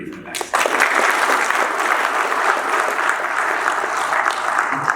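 An audience at a business talk by the founder of Pricol Limited breaks into sustained applause. The clapping swells quickly after a brief quiet start and holds as a dense, even roar with faint voices underneath.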